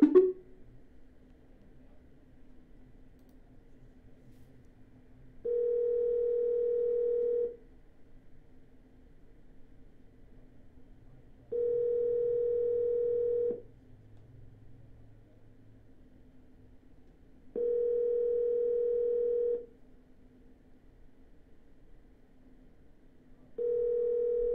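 Telephone call tone on a landline or phone line: four evenly spaced two-second beeps separated by about four seconds of quiet hum, steady and moderately loud, with no voices.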